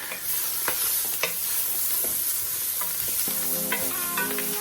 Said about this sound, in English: we're going to get our wooden implement here. And start cooking these out.